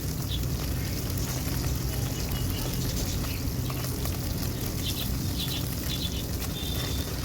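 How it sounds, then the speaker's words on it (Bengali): Small river mourala fish crackle and hiss steadily while frying crisp in oil, a constant dense sizzle with faint bird chirps in the background. "মাছগুলো সুন্দর করে লাল লাল করে একটু কড়া ভাজা দিয়ে নেব।"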